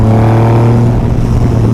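A loud, close Triumph cruiser motorcycle engine drones steadily with a deep, throbbing low rumble as it cruises along.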